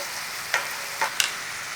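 Cooked ham sizzling in a hot pan, a steady quiet frying hiss with three brief sharper spits or stirring scrapes, close by.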